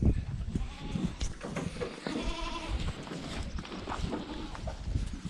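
A goat bleats repeatedly at close range on a farm in central Portugal, with wavering cries over rustling and a low background rumble.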